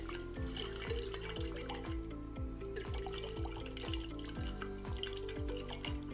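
Water sloshes inside a small plastic soil test capsule as it is shaken in quick, regular strokes, a faint rhythmic liquid rattle repeating about twice a second with no talk.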